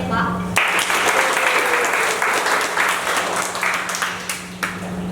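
An audience at an end-of-year school show claps for sack race competitors, steady applause from many hands close by, beginning abruptly and continuing throughout.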